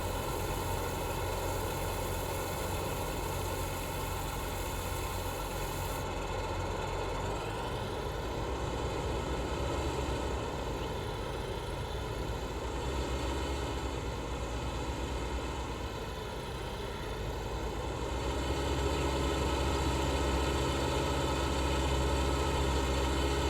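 A combine harvester engine in Farming Simulator 19 runs steadily with a continuous droning hum, loud and close, holding the same level throughout with no talk over it.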